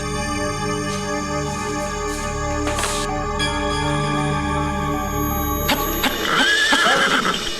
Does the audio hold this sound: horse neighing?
yes